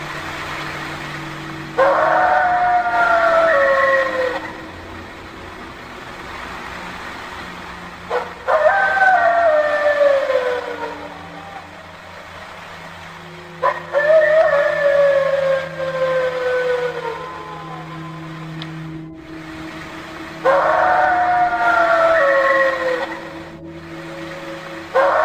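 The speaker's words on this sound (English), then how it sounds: "The howl is similar to a wolf's, but deeper, heavier, like something far bigger." Deep, heavy wolf-like howls from creatures circling an RV at night, four long, loud descending wails separated by pauses of near silence, with a low steady hum beneath.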